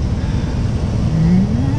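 A car engine drones steadily nearby, its pitch rising slightly as a car overtakes into oncoming traffic at the end of a double lane.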